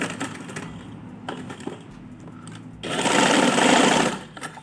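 A sewing machine stitches kurti fabric along paper buckram, with low mechanical thumps and clicks before a steady, fast, loud whirring stitch run that stops abruptly near the end.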